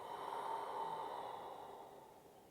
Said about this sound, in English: It's Ujjayi breath, in through the nose and then out through the nose.